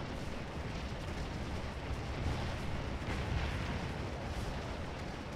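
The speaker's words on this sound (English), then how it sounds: "You can see our own artillery appears to be firing at these guys too." Artillery firing canister rounds in the Civil War game Scourge of War: Antietam, a dense rolling wash of distant booms and crackling fire with no clear single shot, steady throughout.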